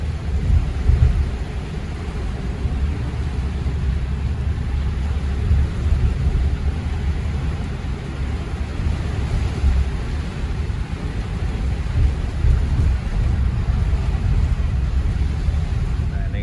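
Heavy rain heard from inside a moving Grand Captain Super Executive coach bus, a dense steady low rumble and wash of rain and road noise filling the cabin, loud and continuous throughout.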